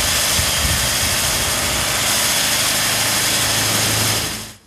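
A core drill bores asphalt samples out of a road surface, a loud, steady grinding drone with engine roar that holds constant for several seconds before cutting off abruptly at the end.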